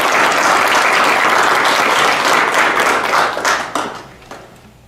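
Loud applause from an audience at a school senior signing day, a dense burst of close clapping that holds for a few seconds and then tapers off quickly into quiet.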